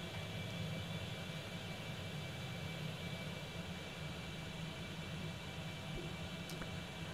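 A Concorde's jet engines spool up in X-Plane 11 as a constant broadband roar and whine, moderately quiet and unbroken, with no talking.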